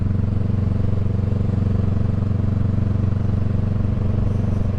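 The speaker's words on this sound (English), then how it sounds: "the Shorty GP with the baffle is the way to go. I think it sounds amazing" A Honda Rebel 500 motorcycle fitted with a Shorty GP exhaust and baffle idles close by, giving off a steady, loud, low rumble with an even pulsing throb and no talk.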